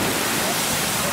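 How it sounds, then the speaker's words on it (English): A Land Rover Discovery splashing through the river ford at Rufford sends up a dense, loud rush of water, a short continuous burst of spray heard close. "The Discovery is back for another splash."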